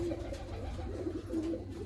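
Pigeons coo in a steady, repeated low murmur, close and continuous, with no talking.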